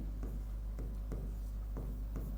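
Chalk or marker strokes on a board during a chemistry lecture, a steady series of short scratchy taps and scrapes, close and fairly faint, with no talking.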